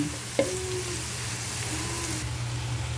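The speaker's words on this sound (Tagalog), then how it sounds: "ang ating bawang. Pupulahin lang natin yan." Garlic fries in a pan with a steady, close sizzle and crackle, a light clink of a utensil near the start.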